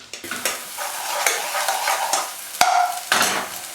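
Onions sizzle and fry in oil with butter ghee in a pan, a steady loud hiss broken by stirring scrapes and a sharp clink of a utensil partway through.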